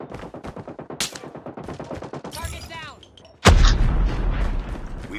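Loud gunfire and a sudden grenade blast in the mobile shooter Call of Duty Mobile during a ranked match: rapid shots throughout, then a heavy explosion followed by a sustained roar of fire, with brief voice bits.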